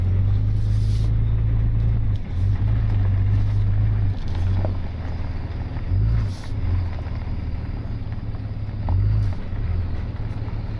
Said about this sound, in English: I'm just gonna line up, back it into place without wasting any time here, because we can't let the motor get hot.